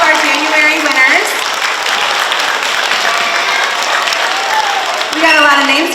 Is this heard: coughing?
no